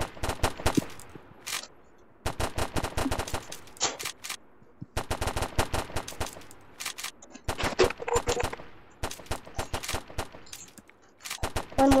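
Rapid bursts of automatic gunfire from the video game Build to Survive, loud and close, coming in dense volleys with short pauses between them and no talk over them.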